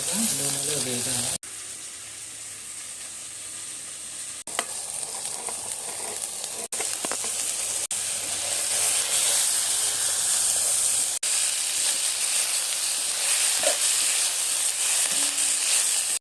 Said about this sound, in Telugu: ఈ విధంగా కూరగాయలు బాగా నూనెలో వేగాలి.